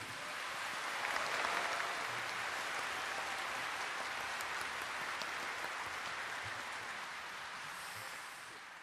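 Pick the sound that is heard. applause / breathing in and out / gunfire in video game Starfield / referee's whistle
applause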